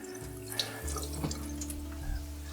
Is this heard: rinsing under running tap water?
yes